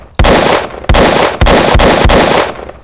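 Gunfire in a Dark GDK third-person shooter game: four loud, sharp synthetic shots about half a second apart, each with a short decaying tail, and no talk over them.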